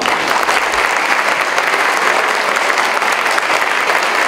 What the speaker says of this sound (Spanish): Que se escuche fuerte los aplausos para estas emotivas palabras